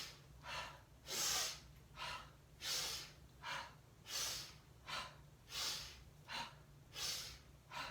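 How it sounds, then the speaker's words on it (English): Slow, deliberate breathing, in through the nose and out through the mouth, as a series of soft rhythmic whooshing breaths about every second and a half, close and alone. "Inhaling through the nose, exhaling through the mouth."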